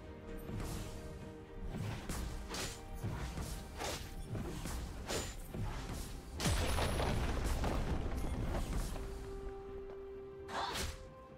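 A turret is destroyed in League of Legends during a Fizz versus Vex mid-lane match, with booming impacts, whooshes and crashing hits layered over game music. The booming swells toward the end, with no talking.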